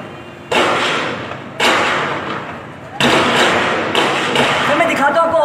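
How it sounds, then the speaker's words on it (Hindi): Gunfire during the terrorist attack on the Pakistan Stock Exchange in Karachi: four sharp, loud reports roughly a second apart, each leaving a sustained echoing roar, with a voice audible nearby. "सर मेरे सामने गोलियां चल रही हैं।"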